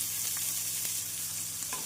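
Steady, close sizzling of chopped onions frying in hot oil, with a few faint stirring scrapes over the continuous crackle.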